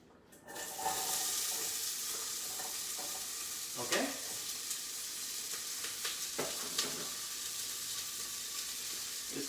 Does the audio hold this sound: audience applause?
no